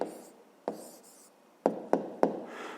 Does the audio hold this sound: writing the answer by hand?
yes